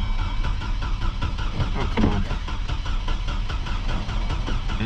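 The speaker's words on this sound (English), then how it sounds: "I'm gonna crank this thing on" A four-cylinder Chevy Colorado engine turns over and runs with a steady, loud mechanical chug and rattle throughout, close up, with no talking.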